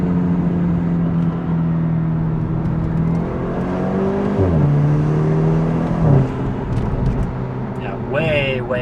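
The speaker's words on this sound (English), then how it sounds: "the car really has a nice on-throttle sound, which we love." A BMW 328i with an axle-back exhaust, resonator delete and secondary cat delete drones and revs with shifting pitch, a steady exhaust note rising and falling, with voices faintly underneath.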